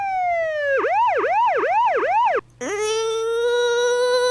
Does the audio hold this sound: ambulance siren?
yes